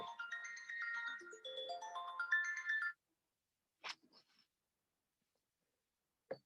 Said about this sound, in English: oops, there goes my phone